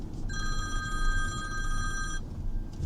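A telephone bell rings in one steady, fairly faint electronic burst lasting about two seconds over a low room hum, then stops, with no talking during the ring.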